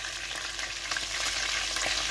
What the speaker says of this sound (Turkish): Şu an kızarıyor yağda.